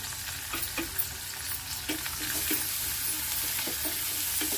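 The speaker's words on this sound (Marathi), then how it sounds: "आता आपण कांदा घालून घ्यायच्यामध्ये कढीपत्ता कढीपत्ता मी तोडून घालते" Onion, torn curry leaves and ginger frying in a pan for a Maharashtrian veg thali, making a continuous close sizzle that grows denser, with occasional light stirring taps.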